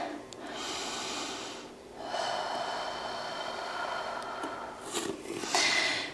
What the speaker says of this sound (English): One more full round of breath here.